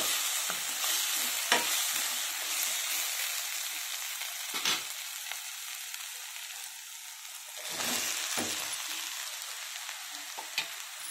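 Ridge gourd pieces and onions stir-fry in a hot pan: a loud, steady sizzle broken by several sharp spatula scrapes and tosses, with the hiss swelling again near the end.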